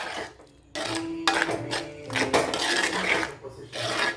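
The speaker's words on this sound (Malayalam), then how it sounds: "എന്നിട്ട് നല്ലതുപോലെ അങ്ങ് ഇളക്കുക." A spoon stirs curd into beetroot pachadi in a warm pan with the heat off, making close, continuous scraping and clinking strokes against the pan with brief pauses.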